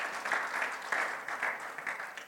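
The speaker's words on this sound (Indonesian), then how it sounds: "Berikan tepuk tangan bagi Tuhan Yesus" Congregation applauding during a Sunday church worship service, a steady wash of many hands clapping, moderately distant and fairly soft, with no talking.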